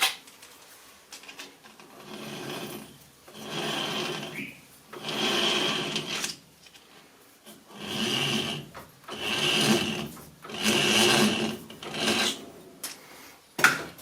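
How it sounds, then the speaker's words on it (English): A file deburrs a machined metal puller plate in a workshop, with roughly six slow rasping strokes, each a loud, close scrape separated by short pauses. "So we'll just deburr that."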